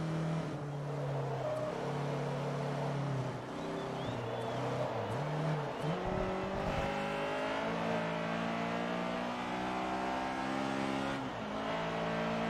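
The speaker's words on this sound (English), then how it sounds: "For a cheap car, this is a good sounding engine." A cheap car's engine revs in Forza Motorsport 3, its note rising and falling through several gear changes, loud and steady throughout with no talking.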